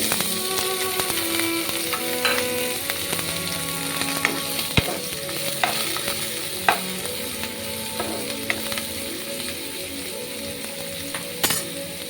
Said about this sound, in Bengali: দিয়ে দিচ্ছি একটা মাঝারি সাইজের পেঁয়াজ কুচি